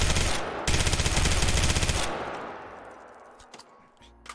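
A rapid burst of automatic gunfire from a weapon in the VR shooter H3VR, its recoil system driving a weight forward, rattles loudly for about a second and a half, then decays into a ringing tail with a few faint clicks.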